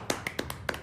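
A few sharp hand claps, about five quick separate smacks within a second, close and fairly quiet, with no voices over them.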